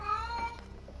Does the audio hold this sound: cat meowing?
yes